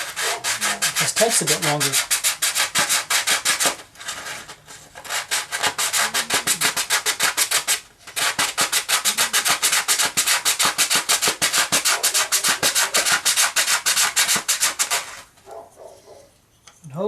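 Sandpaper rubs a wooden rosette in fast, steady scraping strokes, loud and close, with brief pauses, and a voice speaks briefly near the end.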